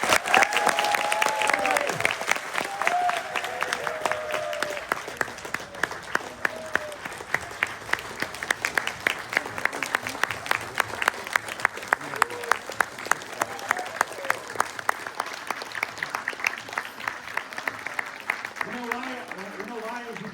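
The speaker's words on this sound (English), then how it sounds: "please give Brandon a huge Tibetan round of applause" An audience gives Brandon a long, loud round of applause, dense clapping sustained for about twenty seconds with crowd noise and a voice speaking over it near the start.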